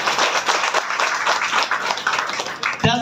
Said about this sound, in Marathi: एकदा जोरदार टाळ्या होऊन झाले.